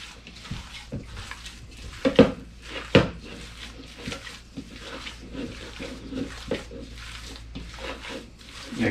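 Albondigas meatball ingredients seasoned with paprika and salt are mixed by hand in a bowl, giving soft squelching and scraping sounds with a few clinks against the bowl, close and fairly quiet.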